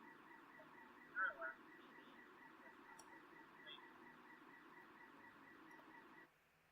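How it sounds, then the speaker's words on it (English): A car alarm going off outside repeats its warbling electronic tone steadily and fairly faintly in the distance, then cuts off abruptly near the end. "Oh, car alarm."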